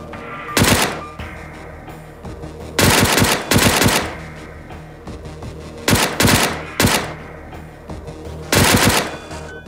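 Sniper rifle shots in a video game, four loud sharp blasts spaced about two seconds apart, each with a short rumbling tail, with no talk.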